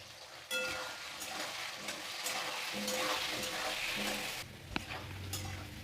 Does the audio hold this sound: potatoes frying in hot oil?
yes